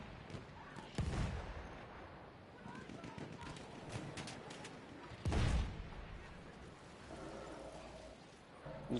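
Distant booms from a tank and artillery shelling a town in a multiplayer war game match, two heavier thumps among scattered gunfire and bird calls, faint under a commentator's voice.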